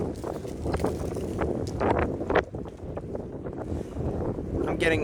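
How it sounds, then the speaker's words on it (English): Wind roars and buffets the microphone in strong 40–50 mph gusts during a late-night storm, with a low rumbling rush throughout and a voice faintly mixed into the noise. "I'm probably getting like 40, 50 mile an hour wind gusts here."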